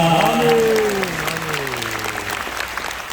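Congregation applauding at a church gathering in a cultural hall, dense clapping from a crowd that begins loud and tapers off, with a sustained voice tone fading beneath it.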